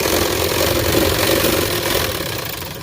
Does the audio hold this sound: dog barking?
no